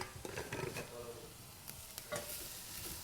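Onion and garlic sizzle in a pan for spaghetti pomodoro, with steady frying hiss, a few stirring scrapes and clinks close by, and no voice.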